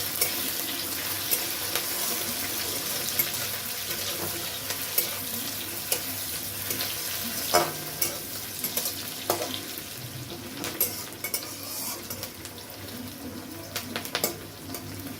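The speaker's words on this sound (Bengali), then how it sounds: "পেঁয়াজটাকে হালকা করে ভেজে নিতে হবে।" Chopped onions frying in hot oil in a pan for a bitter gourd and shrimp dish, a continuous close sizzle with occasional scrapes and clicks of stirring throughout.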